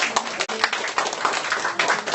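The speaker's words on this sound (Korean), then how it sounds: "박수 한번 하십시다" A church congregation claps together after a service announcement, a dense, even patter of many hands at close range lasting a couple of seconds.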